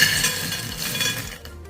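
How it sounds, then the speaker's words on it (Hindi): Crispy, non-greasy fried pakoras rattle and clink in a metal strainer with a dense, brittle jangle that runs for over a second, then quickly fades to quiet. "यहाँ पर आप लोग पकौड़ियों की आवाज सुन सकते हैं कि ये कितनी क्रिस्पी और नॉन ग्रीसी बनकर तैयार हुई हैं।"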